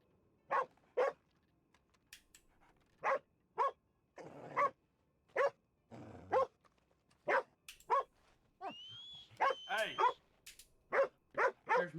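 Dog barks ring out in a video game, a series of short, sharp, evenly spaced yaps mixed with a few whines and whimpers, while people talk over and between them.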